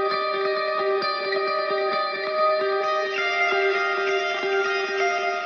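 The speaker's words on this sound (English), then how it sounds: "So that's the clean guitar." A clean electric guitar plays sustained chords with a rhythmic picking pulse, notes trailing into echoing delay repeats and a wash of reverb, in a metal mix.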